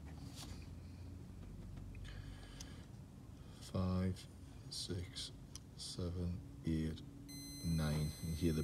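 A multimeter beeps while testing the glow plug circuit of a 2014 Nissan Navara D40 with a P0380 glow plug fault; a sustained electronic tone sounds near the end amid intermittent talking.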